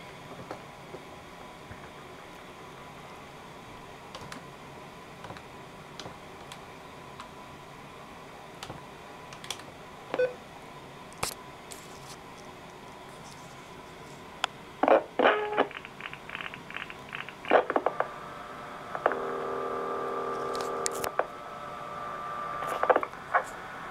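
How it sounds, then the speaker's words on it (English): Touch-tone digits are dialed on a Centrex telephone line after a hookswitch flash: a quiet run of faint clicks, then a quick series of short tone bursts followed by a longer steady tone. "I will flash and dial another number"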